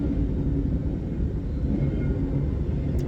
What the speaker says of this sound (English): I'm looking at these trains be going by fast as hell